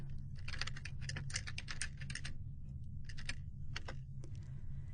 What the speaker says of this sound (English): it helps if you type the right name